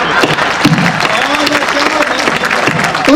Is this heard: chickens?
no